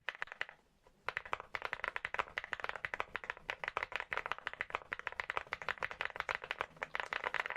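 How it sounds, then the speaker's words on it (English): Rapid, continuous clicking of keys being tapped, close and busy, after a brief quiet start; no talking. "Then add a bit of typing sound."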